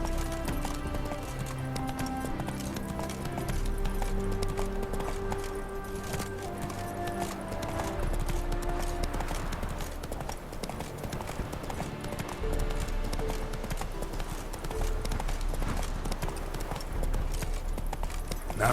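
Hooves of Roach, the horse in The Witcher 3, clop steadily at a gallop through most of the stretch, heard beneath a constant bed of game music and ambience with no talking.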